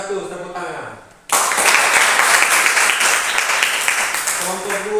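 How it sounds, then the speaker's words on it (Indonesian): Applause bursts out after a brief spoken lead-in at a classroom group assessment, a dense, loud wash of many hands clapping that holds steady for several seconds before speech resumes over its tail. "tepuk tangan"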